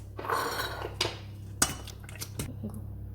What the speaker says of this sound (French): Voilà le deuxième œuf et que je vais mélanger avec la fourchette